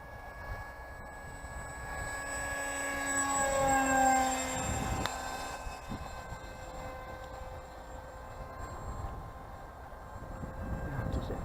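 A model Eurofighter jet aircraft flies past with a steady whine that rises to a peak around its closest pass, then fades to a lower background drone.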